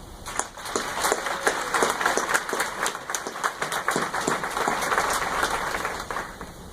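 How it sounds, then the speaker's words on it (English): Audience applause at a citizenship ceremony, a steady wash of many hands clapping together for several seconds. "please join me in offering a round of applause and gratitude for them"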